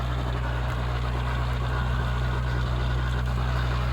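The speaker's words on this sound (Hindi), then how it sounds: "तो कुबोटा MU 4501 ट्रैक्टर चल रहा" Kubota MU 4501 tractor engine running steadily in a sugarcane field, a continuous close, loud diesel drone with a steady low throb and no talk over it.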